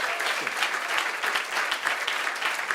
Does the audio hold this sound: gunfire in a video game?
no